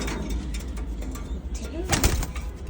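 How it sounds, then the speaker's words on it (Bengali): Pigeons coo softly in a loft in a low, rolling murmur, with faint wing flutters and nearby voices mixed into the busy background. "এখানে দুইটা নেই, এখানে অনেকগুলো কবুতর।"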